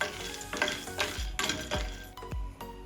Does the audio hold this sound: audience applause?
no